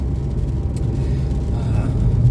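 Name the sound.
car driving on road in light rain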